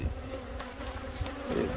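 Honeybees buzzing at an open hive during a warm January inspection, a steady close drone of many wings with a few louder passes near the end.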